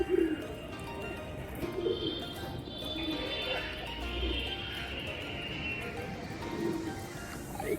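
City pigeons feeding on a rooftop close by, with soft coos and fluttering wings over a constant outdoor hum, and someone talking quietly at times.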